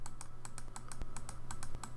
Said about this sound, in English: start typing the word P-O-L-Y and then pick Polyline from a drop list